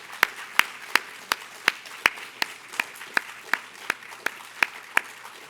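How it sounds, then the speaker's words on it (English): An audience claps for a panel in a slow, even rhythm of single sharp claps, about three per second, fairly faint over a quiet room. "Can we give them a big round of applause?"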